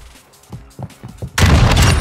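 Gunfire with fire rounds in a video game: a few soft thuds and footsteps, then a sudden loud, dense burst of shots that fills the final half second.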